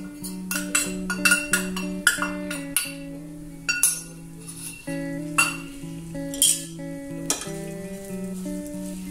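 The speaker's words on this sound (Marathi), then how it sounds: "आता आपलं तूप हे छान तापलं आहे। तर आपण हे जे बारीक केलेलं सगळे इंग्रेडियंट आहे ते यात घालूया" Finely ground almond sheera ingredients go into hot ghee in a pan, with repeated sharp metallic clinks of a spoon against the vessel and a light sizzle underneath, close and fairly loud.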